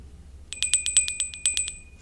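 A hand bell rung rapidly, about a dozen bright metallic strikes in quick even succession, close and clear, starting after a half-second of quiet and stopping abruptly.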